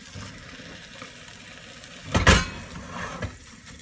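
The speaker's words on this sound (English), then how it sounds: "Pulling this underneath, lifting it up, letting that uncooked egg filter its way down below." Beaten eggs for a rustic omelette sizzle softly in a hot pan as they are pushed and lifted, with a louder scraping stir near the middle.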